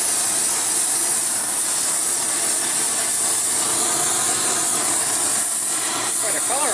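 A torch or heat source hisses steadily while burning old paint off a metal part, a continuous close broadband roar with no breaks, and some talk under it.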